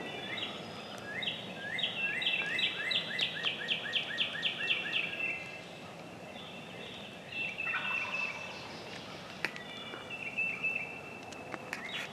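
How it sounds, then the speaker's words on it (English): Wild turkey gobbling from its roost on a foggy Tennessee morning, with repeated rattling gobbles at a moderate distance, a loud run early on and fainter calls later, alongside other birdsong. "Still out there gobbling on the limb."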